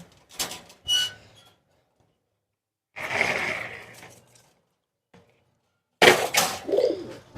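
Short calls of Kagji pigeons, a female and a male, come in a few separate bursts with quiet gaps between them, close by, cooing, no talking.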